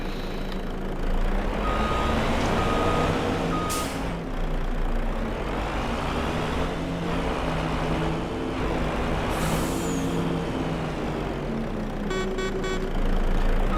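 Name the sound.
truck reversing beeps while parking, Farming Simulator 25 video game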